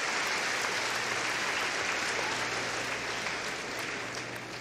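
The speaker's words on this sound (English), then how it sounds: "Give them a round of applause" Audience at the Crufts 2019 dog show applauds during utility group judging, a dense, sustained clapping from a large indoor crowd that eases slightly toward the end.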